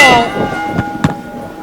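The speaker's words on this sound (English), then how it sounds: "There's the bell!" Wrestling ring bell struck at the start of a match, a couple of bright metallic clangs ringing out over crowd noise and an announcer's voice.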